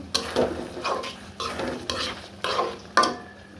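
Ground garam masala frying in oil, with a soft sizzle under repeated rhythmic spoon scrapes against the pan, about six stirring strokes in a row, close and clear.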